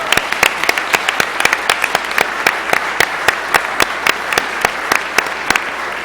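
An audience at a law school student symposium panel applauds. The crowd claps steadily, with sharp individual claps standing out over a dense wash of applause that holds for several seconds.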